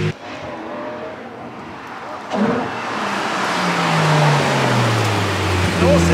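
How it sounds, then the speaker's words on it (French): A 6.5-litre V12 Ferrari Monza SP, around 800 horsepower, sweeps past in a loud fly-by. The engine roar swells and then bends in pitch as the car approaches and passes close by. "vous faire quelques fly-by avec la voiture pour que vous puissiez bien entendre le son du V12 depuis l'extérieur"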